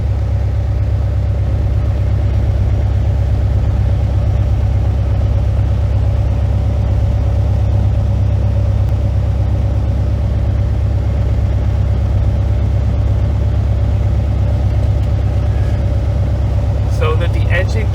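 Light airplane engine holding a steady, loud low drone and rumble throughout the takeoff roll, with a faint tonal whine on top and no talk in the clip.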